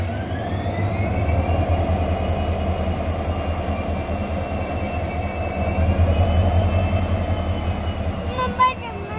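A Theni to Madurai passenger train pulling away, a steady low rumble with rising engine drone that holds throughout at moderate loudness, ending with a short clatter near the close.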